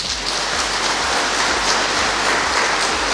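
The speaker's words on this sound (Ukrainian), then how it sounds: "я прошу ще раз оплесками подякувати" Sustained audience applause at a Ukrainian agricultural company's year-end gathering, dense steady clapping from a large crowd, loud and even throughout with no talking.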